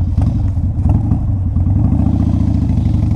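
A 2002 Harley Davidson Low Rider motorcycle engine idles loud and close, a steady low, lumpy rumble with continuous clattering pulses and no voices.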